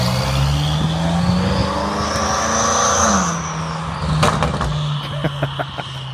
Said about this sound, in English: Ain't nothing like watching your car drive away.